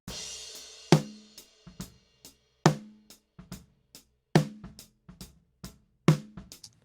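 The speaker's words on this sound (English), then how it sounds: "listen to this snare drum" An unprocessed snare drum recording, fat but peaky, plays alone: loud, sharp backbeat hits alternate with quieter ghost strokes in a steady groove, each crack ringing briefly before a clean, dry gap.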